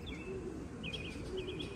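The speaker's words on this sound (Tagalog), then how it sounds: "ayun yung mga ibon" Racing pigeons on a 40-mile Capistrano Classic race coo and chirp faintly, a few brief calls repeating over quiet outdoor background noise.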